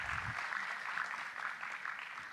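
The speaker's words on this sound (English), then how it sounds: "give it a huge round of applause for Frederick." Audience applause fills an auditorium at the IndiaFOSS 2024 conference, a steady wash of many hands clapping at moderate distance, unbroken for the whole stretch.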